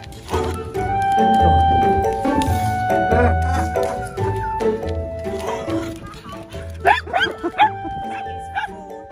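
Several dogs bark and yip excitedly in a home on an icy winter day, loud sharp bursts overlapping with whimpers and someone talking, the barking growing choppier and more frantic toward the end.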